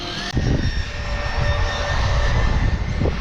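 Continuous high-pitched whine of a radio-controlled car's small electric motor, steady and fairly loud, with a rough buzzing undertone throughout.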